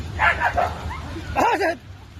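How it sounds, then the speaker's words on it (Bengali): Dogs at Eco Park in Kolkata give a couple of short, close yelping barks, with people talking in the moments before. "কুকুরগুলো দেখো কুকুরগুলো ইকো পার্কে আসছে"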